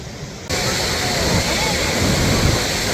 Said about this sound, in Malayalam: ഈ സംഭവം ഈ തിരമാല ഇങ്ങനെ അങ്ങോട്ട് നിന്നാണ് അങ്ങോട്ട് തന്നെ എത്ര ഗതിയുണ്ട് ഇപ്പൊ